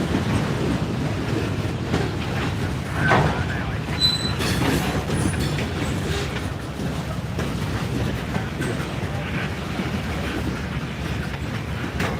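A Norfolk Southern freight train rumbles steadily past nearby, with a constant heavy roar of wheels on rails and occasional metallic squeals rising above it.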